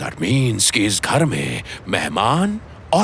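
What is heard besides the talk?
None of the usual background noises is heard.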